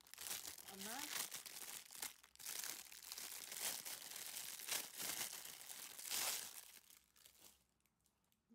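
Double-sided adhesive tape for nail tips crinkles and rustles softly up close in a continuous papery texture, with a brief sharper crunch near the end.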